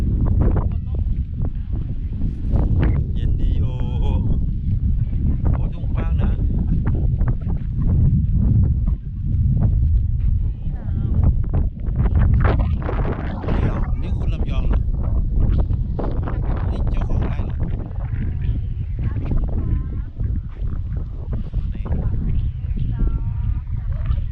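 Strong wind buffets the microphone outdoors on a sunny farm in Lopburi, Thailand, a steady low roar running through the whole stretch under people talking.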